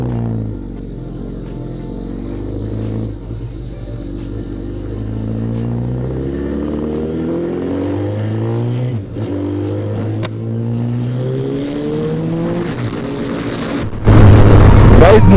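Suzuki Hayabusa motorcycle engine on a short ride, rising and falling through repeated revs and gear changes for most of the clip, close and loud, with a burst of wind noise near the end.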